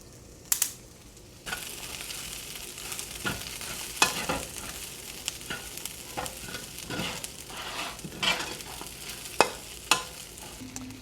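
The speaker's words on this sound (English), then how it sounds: "our green onions in our pan and toast these with our ginger" Green onions and ginger toasting in a hot pan give a soft continuous sizzle, broken by sharp irregular clicks and scrapes of a utensil stirring against the pan, close up with no talk.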